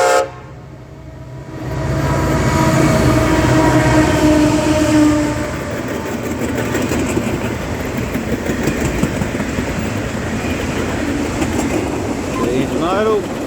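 An Australian intermodal freight train rolls past trackside with a loud, sustained rumble and rattle of wagons after a brief quiet start, and faint voices are heard in the background.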